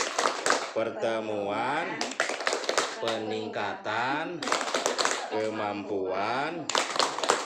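A group of women chant a rhythmic P2K2 clap routine together, with sharp bursts of clapping between sung phrases, close and loud.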